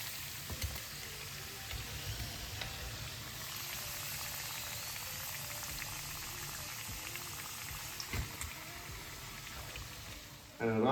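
Jaffna-style mutton rolls deep fry in hot oil, a steady, fairly quiet bubbling sizzle that runs without a break.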